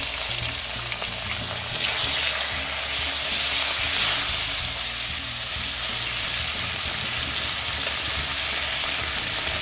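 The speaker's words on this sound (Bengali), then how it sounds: "মাছটা ভাজা হোক" Fish sizzles steadily in a hot kadai on a home stove, a dense and continuous frying hiss that rises briefly a couple of times. No one speaks over it.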